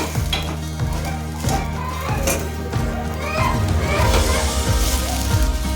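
Sweet corn kernels fry in a pan with a bright continuous sizzle and stirring clatter, heard close, while a person talks over it.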